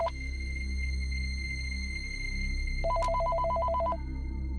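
A telephone rings late at night indoors, a repeated electronic trill pulsing steadily over a low background hum, fairly close and clear with no voices.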